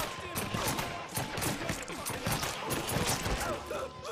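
Rapid gunfire from the video game Mafia 3, with bursts of shots crackling in quick irregular succession throughout, loud and close, in a firefight with a voice speaking briefly under the shooting.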